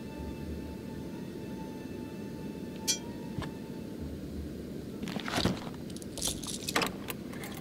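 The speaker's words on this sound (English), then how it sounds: "The key fits and turns with a satisfying click." A key turning in a door lock in the video game Shadowgate, a brief metallic click and jingle near the middle, followed by a few faint rattles over a steady low background hum.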